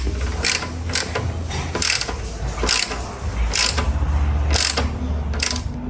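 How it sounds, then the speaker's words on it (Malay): A hand ratchet tightening size 10 bolts on the air-conditioning compressor fittings of a Perodua Axia, giving close repeated clicking bursts in an irregular rhythm over a steady background hum. "Terus sekarang ketatkan dia secukup rasa pakai ratchet ni."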